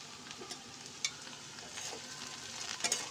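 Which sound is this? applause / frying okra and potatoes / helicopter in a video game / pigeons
frying okra and potatoes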